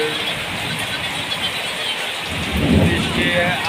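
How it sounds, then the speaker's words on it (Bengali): Heavy rain pours steadily over Gaibandha town in Bangladesh, a dense continuous hiss with a low thunder rumble swelling in the last second, no voices present. "অনেক দিন পরে বৃষ্টি নামলো"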